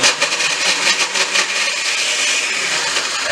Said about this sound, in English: I'm actually going to put the lid on and try to blend this up a little bit, just a little bit